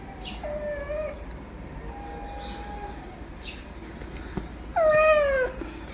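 A cat meows several times, drawn-out rising and falling cries with a louder one near the end, over steady background hiss and faint insect buzz.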